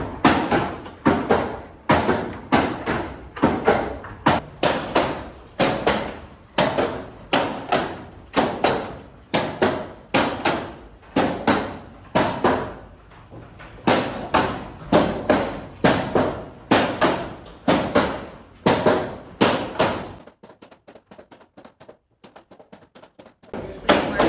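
A hand-started mechanical hammer in Basel, Switzerland pounds with heavy blows in a fast, steady rhythm, briefly pausing midway, then resuming before stopping near the end.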